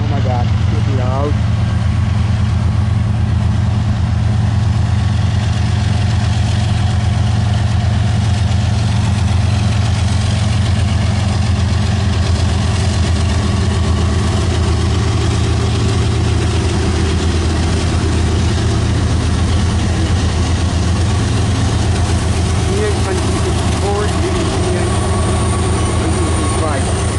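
A CN freight train locomotive idles at Port Huron, Michigan, its diesel engine holding a loud, steady low rumble throughout, with brief voices in the foreground.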